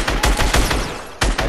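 Desert Eagle pistol shots in Fortnite ring out in quick succession, several loud booming reports close together with a short pause before a final pair, no voices.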